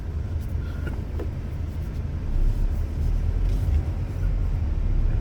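A Mazda MX-5 1.5 Skyactiv-G manual roadster being moved, its low engine rumble steady and close throughout, rising slightly in level partway through with no speech.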